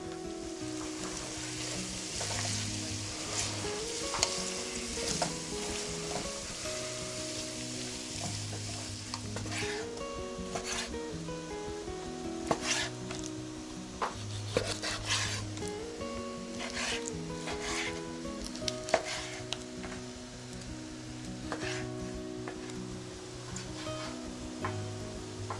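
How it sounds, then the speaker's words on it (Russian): A Russian vegetable sauté (zazharka) frying in a pan in a village kitchen, with a steady close sizzle and repeated scraping, rubbing stirs of a utensil throughout, no one speaking. "Все, зажарка жарится, мяско режется."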